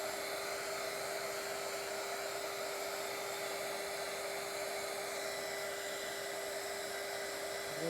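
Hair dryer blowing on polycrylic-coated cotton fabric, a steady loud high-pitched whine with a constant tone that runs unbroken from start to finish, no talking.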